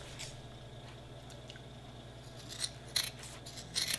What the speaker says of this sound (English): Now I simply cut it out.